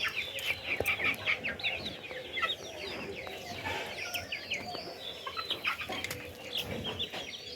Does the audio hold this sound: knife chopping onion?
no